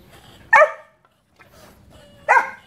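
A dog barks two sharp, loud barks about two seconds apart, close by, with a faint yip between them and quiet outdoor background.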